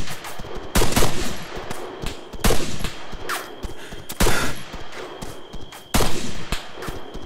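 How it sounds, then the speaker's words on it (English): Automatic rifle bursts in the video game Arma 3 crack out loud and close in several spaced volleys of rapid shots, with short pauses between bursts and no talking. "I have fucking shot so many bullets at this."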